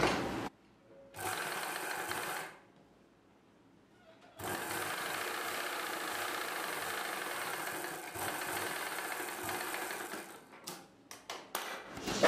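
A sewing machine runs in steady bursts while stitching folded cloth for a gathered saree petticoat, humming continuously for a few seconds, pausing, then running long again before ending in short stop-start runs.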